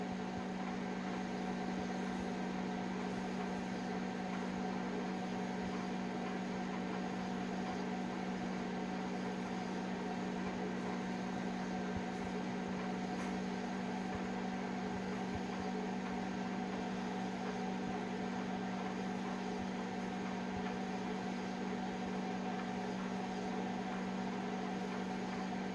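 A microwave oven runs with a metal fork inside, a steady low electrical hum and whir holding unchanged for the whole stretch, fairly quiet, with no talking.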